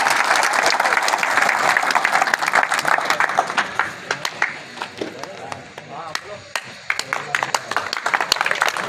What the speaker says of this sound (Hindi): तालियां यार, तालियां।